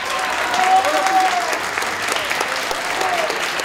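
An audience at a school gives a group of musicians a brief round of applause, even and full, with a few faint voices mixed into the clapping.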